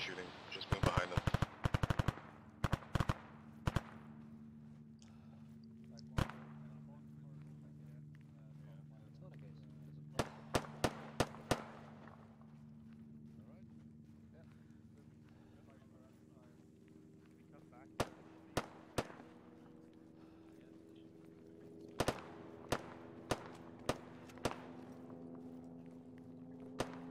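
Friendly soldiers' gunfire in a military video game: a dense cluster of rapid sharp shots opens, then scattered single cracks and short bursts recur over a steady low engine-like hum, with faint voices in the background.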